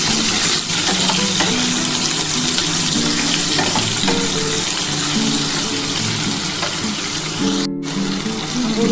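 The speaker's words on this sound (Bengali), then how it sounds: "আলুটা একটু ভাজা ভাজা হলে তারপর আমি ঝিঙেটা দেবো।" Continuous close sizzling of diced potatoes frying in oil in a pan for a spicy ridge gourd and poppy seed dish, with scraping stirs throughout and one brief dropout near the end.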